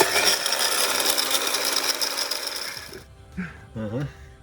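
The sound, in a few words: grinder grinding electronic DIP components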